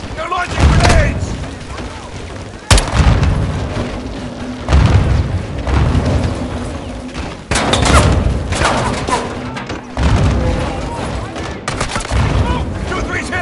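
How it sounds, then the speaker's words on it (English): Grenades explode and gunfire bursts repeatedly and loudly throughout a battle in the video game Call of Duty: Modern Warfare II, with the booms coming every couple of seconds amid continuous combat noise and shouting voices. "They're launching grenades!"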